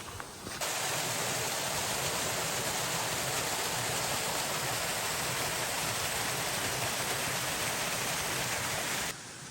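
A couple of small waterfalls on a woodland hike give a constant loud rushing hiss of falling water, steady throughout the clip with no talk.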